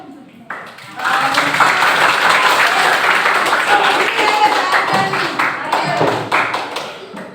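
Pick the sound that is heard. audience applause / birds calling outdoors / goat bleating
audience applause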